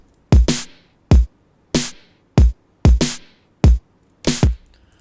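Layered snare drum samples programmed in Logic Pro X, with EQ boosting the high end and cutting the lows: seven sharp, punchy hits in a loose rhythm, a few falling as quick doubled flams, each with a short bright decay.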